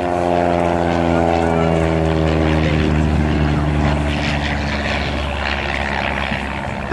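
A Miles Whitney Straight propeller aircraft from 1941 flies at an airshow, its engine giving a loud, steady drone with stacked harmonics that slowly drop in pitch as it passes. Crowd noise and a commentator's voice run underneath.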